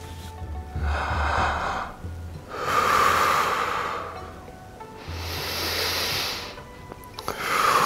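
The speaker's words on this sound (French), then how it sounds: "il y a ce qu'on appelle la respiration abdominale" Slow abdominal breathing shown during a training talk: three long, loud, breathy inhales and exhales in a steady rhythm, with no speech.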